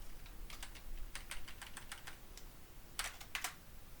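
Keys clatter on a computer keyboard in quick, uneven bursts of typing, close and fairly quiet, with a short pause before a final flurry of keystrokes.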